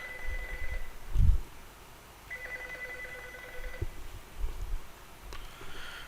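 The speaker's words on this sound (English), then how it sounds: "now you can hear my other phone is ringing and his extension is ringing right" A call-center desk telephone extension rings in repeated electronic trills, fairly faint against a quiet room hum, with soft handling noises between rings.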